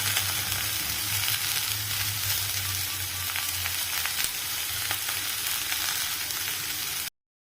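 Chopped vegetables and onions sizzle steadily in a hot pan, a loud, continuous frying hiss with faint crackles and stirring, then sudden silence at the end.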